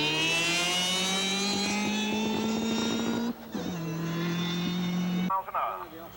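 A vintage racing car's engine drones steadily at Brooklands, holding a strong, loud tone before a brief dip for a gear change and then pulling again, fading at the end.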